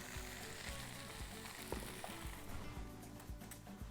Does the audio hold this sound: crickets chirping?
no